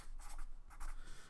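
Pencil scratching on paper while writing out an answer, two quick bursts of close, faint scribbling strokes in a quiet room.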